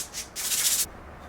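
Dried gypsum reinforcing paste on a chipped wall corner being sanded by hand: two bursts of dry, scratchy rubbing, a short stroke and then a longer steady one, close and fairly quiet, with no voices.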